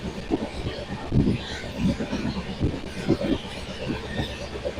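Heard from on board, the Ala Hazrat Express passenger train runs at full speed, a steady rumbling roll with rhythmic wheel thumps and rattling carriages close by.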